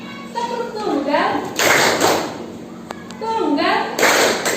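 During an Islamic religious studies lesson, children do the tepuk tunggal clapping routine, with chanted voices alternating with two distinct bursts of loud, crisp group clapping, close and lively.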